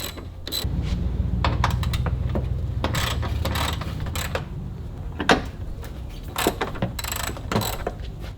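A ratchet with a 10mm socket clicks rapidly and steadily while loosening headlight bolts on a Ram Promaster van, followed by scattered sharp metallic clinks and taps, close by with no talk.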